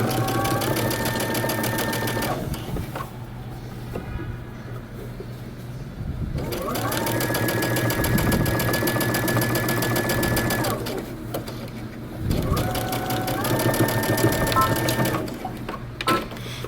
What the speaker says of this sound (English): now we're going to stitch through all these layers using 5/8 of an inch seam allowance